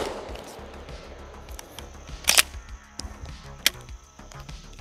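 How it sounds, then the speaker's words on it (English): A Benelli M4 shotgun fired as fast as the trigger can be pulled, four sharp outdoor blasts in quick succession, two clustered together and two more spaced apart, with handling noise between the shots. "Benelli M4, as fast as I can pull the trigger,"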